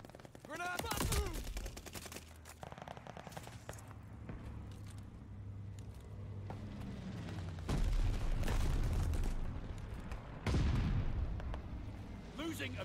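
Grenade blast in Call of Duty Vanguard multiplayer, deep heavy booms bursting out amid continuous distant gunfire and battle noise, with a voice talking over the action.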